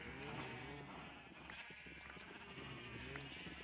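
Sheep in the Minecraft video game bleat several times in quick succession, fairly close, alongside soft in-game background sound, with no talking.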